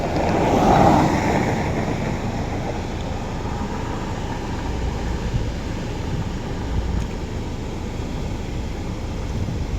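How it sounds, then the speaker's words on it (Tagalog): Rough sea surf rolls in a constant heavy roar at Bagasbas Beach, Daet, Camarines Norte, mixed with blustery wind buffeting the microphone, fairly loud and unbroken, with no voices. "Medyo maalon ngayon mga kauragon kasi ano,"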